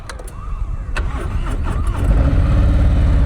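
A motorcycle engine runs near and steadily during a slow-speed U-turn drill at a Texas riding practice, idling and then rising in revs with a throttle blip midway, loud throughout with a brief voice in the background.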